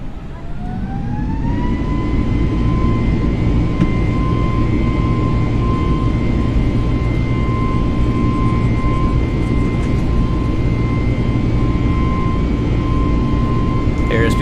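Twin engines of an A320 in Microsoft Flight Simulator spool up to takeoff thrust, a rising whine settling into a steady loud roar with a sustained tone over heavy low rumble throughout.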